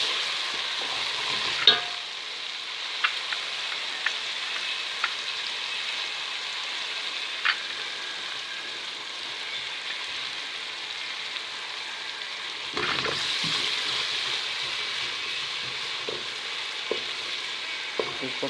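Chopped onion, ginger, garlic and green chili frying in hot oil for a cauliflower and potato dish, a steady close sizzle with occasional scrapes and stirring bursts and no talking.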